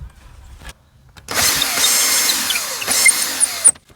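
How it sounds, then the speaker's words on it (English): A power drill whirs steadily for about two seconds after a quiet pause, pre-drilling wood for a planting box cover, then cuts off abruptly. "That's how you pre-drill"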